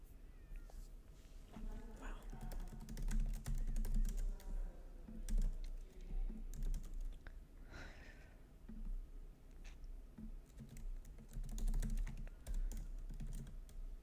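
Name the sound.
typing on a computer keyboard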